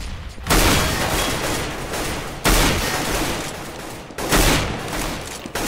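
Loud bursts of rapid gunfire from the video game CS:GO, three heavy volleys of shots with brief gaps between them, up close and with no talk over them.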